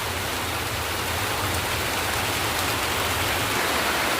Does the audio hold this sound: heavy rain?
yes